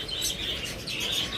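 Pet lovebirds, cockatiels and budgerigars chirp close by in quick, bright overlapping tweets, a short continuous burst of high calls.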